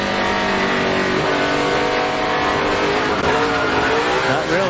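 Loud, dense roar of NASCAR stock car engines racing at the 2004 Siemens 300, one car getting back on the throttle, with a steady close full-band engine drone and no talk.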